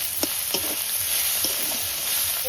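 Tomatoes frying in a pan with ginger-garlic paste and turmeric, a steady close sizzle broken by a few sharp stirring scrapes of a spoon against the pan.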